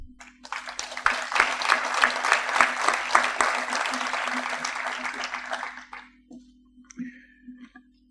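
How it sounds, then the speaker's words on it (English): Warm applause greets a speaker at a business masterclass, building quickly and then holding strong for several seconds before it dies out, leaving a low hum and a few small noises. "please join me in welcoming Hans van der Loo with a warm applause"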